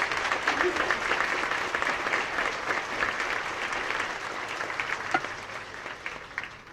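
A commencement audience at Wilbraham & Monson Academy applauds steadily, dense clapping with scattered cheers filling the whole stretch at a fairly loud, even level.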